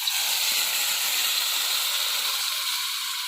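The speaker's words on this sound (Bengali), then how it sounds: "এখন এই যে জল দিয়ে দিলাম।" Steady, loud hiss of water hitting a hot pan of fried rice, a broad sizzling wash that holds evenly throughout with no pauses.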